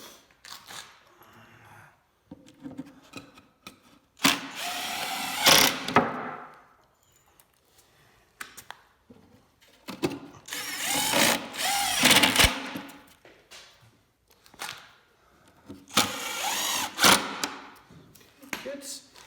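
A power drill drives 3.5 inch screws into wooden pieces while a speed sled is built, sounding as three separate whirring bursts with quiet gaps between them.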